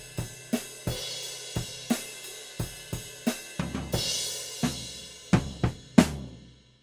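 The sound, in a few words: drum fill moving from floor tom into crash cymbal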